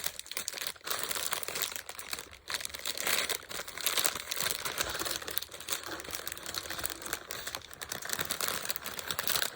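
Paper wrapping on a package is torn and crinkled in continuous rustling bursts, close and fairly quiet, with no talking.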